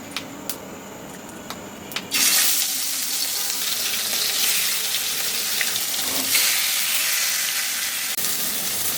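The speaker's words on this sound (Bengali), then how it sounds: "কড়াই গরম হয়ে গেছে একেবারে, সুন্দর করে ভেজে নিতে হবে।" Fish sizzles loudly in hot mustard oil in a kadai, a constant crackling hiss that swells after a couple of seconds, with a few light clinks early on.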